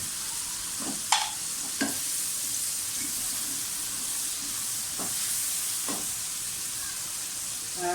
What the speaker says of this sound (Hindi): प्याज को अच्छी तरह से फ्राई कर लें।